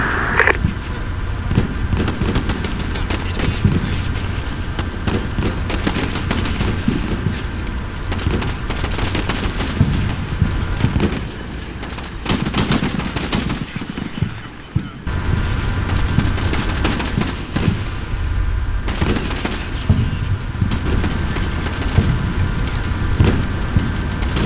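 Dense, continuous crackle of gunfire rolls on through a battle across an open field in the military video game Combat Mission: Shock Force, with rumbling engines beneath and a brief lull partway through.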